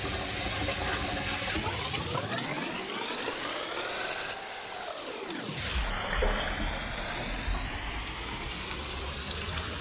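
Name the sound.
basmati rice being washed under running water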